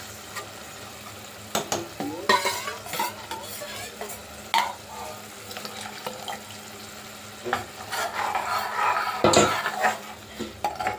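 Tomato and cashews frying in a home kitchen pan, with repeated stirring scrapes, clinks of a utensil against the pan and a steady sizzle underneath, close and moderately loud, with no talking.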